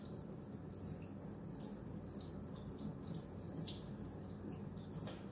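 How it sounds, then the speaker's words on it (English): Tap water runs steadily into a strainer of raw chicken in a sink, a continuous splashing hiss with small spattering bursts, heard up close with no talk. "So I'm just rinsing it out, letting it drain."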